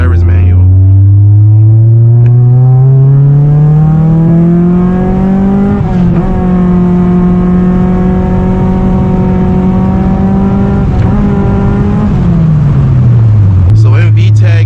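Honda Prelude engine revving hard and climbing steadily in pitch as it pulls into VTEC, holding high revs, then dropping back toward idle; loud, close and continuous.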